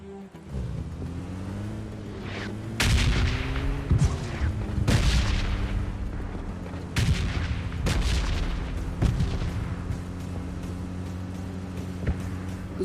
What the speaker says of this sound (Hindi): इधर से मुझे बहुत ज़्यादा फायरिंग की साउंड आ रही थी